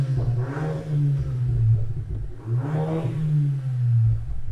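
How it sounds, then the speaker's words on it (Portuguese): Ram Rampage R/T pickup with a 2.0 turbo engine revving just after ignition, two swelling rev blips over a steady idle hum, close and fairly loud with no talking. "Ó, ouviu um ronquinho? Ronquinho de esportivo ela tem."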